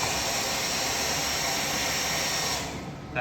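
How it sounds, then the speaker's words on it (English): Continuous close airflow from a hair dryer used to flatten wrinkles in a 2018 Suzuki RMZ250 number plate graphic, a steady loud whoosh that cuts off near the end. "That hair dryer gets rid of all the wrinkles"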